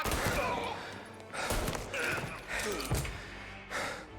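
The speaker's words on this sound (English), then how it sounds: "A lot of heavy breathing right now." A man's heavy, ragged breathing in the crime game Mafia: Definitive Edition, coming in repeated loud gasping bursts with short pauses between them, set against game background noise.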